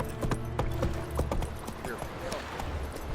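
Horse hooves clip-clopping in the video game The Witcher 3: a close, steady rhythm of hoof strikes, with a voice speaking over them.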